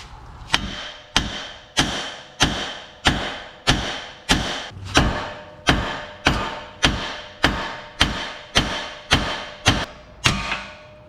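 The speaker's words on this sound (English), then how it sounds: "Get yourself a hefty hammer, and you're going to want to hit around the steering knuckle." Heavy hammer blows strike a Jeep Grand Cherokee's steel steering knuckle in a steady rhythm during tie rod replacement, about fourteen sharp, loud clanging thuds evenly spaced, with no talking.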